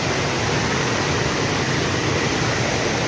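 Heavy rain and a rushing waterfall near Munnar roar as a loud, dense, steady wash of water noise that fills the whole clip without letup.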